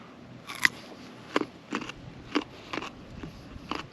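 Crunchy bites into a fresh garden carrot peeled with a pocket knife, about six crisp snaps spaced roughly half a second apart, close and fairly quiet with no talking.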